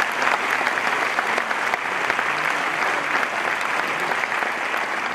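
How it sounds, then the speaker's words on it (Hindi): Thunderous applause from a large celebration audience, a dense continuous roar of clapping, loud and even throughout with no talk over it. "गगनभेदी ताली।"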